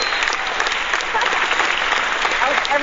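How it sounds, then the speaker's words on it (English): A large audience applauds steadily and without pause, dense continuous clapping filling the room for the whole stretch as a guitarist is welcomed. "people applaud nonstop"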